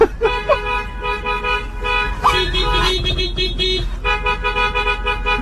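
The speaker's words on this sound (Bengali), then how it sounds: "এখানে যখন ট্রাফিক জ্যাম লাগে তখন এরা নিজেদের মধ্যে একটা আলাদা লেভেলের কম্পিটিশন স্টার্ট করে, যেখানে কে কতবার হর্ন মারতে পারে।" Car horns blare repeatedly in a West Bengal traffic jam, several overlapping toots and longer honks from nearby vehicles over a low road rumble, with some voices audible in the background.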